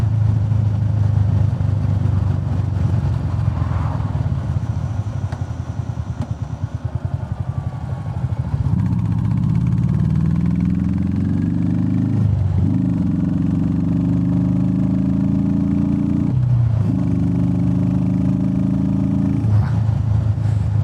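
A Royal Enfield Meteor 350 motorcycle fitted with a DNA air filter rumbles loudly and close, idling at first, then revving up through several rising pulls with brief dips between gear changes and throttle blips.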